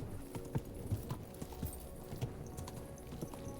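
Quiet, uneven clip-clop of horse hooves walking slowly in the video game Kingdom Come Deliverance II, soft thuds repeating over a low background hum.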